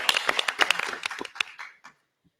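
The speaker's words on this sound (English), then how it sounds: "I would just like to ask for a round of applause and appreciation for Jay Moody" Attendees at a city commission meeting give a short round of applause, a sparse scatter of claps that thins out and stops within two seconds.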